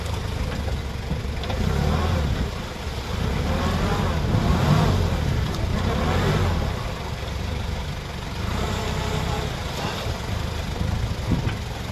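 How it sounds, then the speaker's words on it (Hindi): An off-road vehicle's turbocharged engine revs and drones steadily while the vehicle floats through water, a low rumbling roar that swells and eases over the whole span with faint voices mixed in. "टर्बो की आवाज आनी चाहिए"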